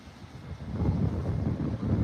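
Sea waves wash on the shore at Torquay under gusty wind buffeting the microphone, a low rumbling surge that swells louder toward the end, with no talking.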